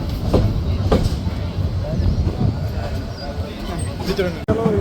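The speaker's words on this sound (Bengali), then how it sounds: "ট্রেনটি লাকসাম জংশন ছেড়ে যাচ্ছে" The Sagarika commuter train pulls out of Laksam Junction with a rumbling, clattering roll of wagons and a few sharp knocks.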